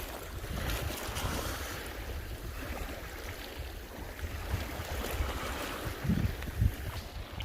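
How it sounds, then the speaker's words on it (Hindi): Water of Pangong Lake in Ladakh laps gently at the shore with wind rushing across the microphone, a steady soft wash with a couple of slightly louder splashes near the end. "और इस पानी की आवाज़ से बड़ा मज़ा आ रहा है सुनने में।"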